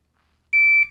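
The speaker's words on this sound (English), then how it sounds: "It's a shot timer. I have it set for a par time of 1 second." A shot timer set to a one-second par time gives two sharp electronic beeps, a long loud steady tone followed by a second one, clean and close with no talking.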